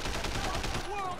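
Gunfire in the video game Sleeping Dogs: Year of the Snake, a quick burst of several rapid shots with a rhythmic pulsing pattern, close and punchy, followed by a short electronic tone.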